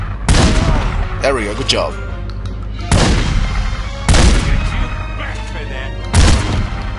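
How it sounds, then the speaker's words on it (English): Shotgun blasts from The Godfather PC video game: four loud, booming shots spaced a second or two apart, each with a sharp attack and a rumbling decay, with brief talk over the gameplay. "Shotgun is powerful enough"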